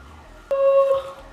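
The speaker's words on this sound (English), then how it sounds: "I'm sorry if you can hear that annoying alarm going off" A short electronic alarm beeps faintly in a room, one thin tone rising out of a quiet background.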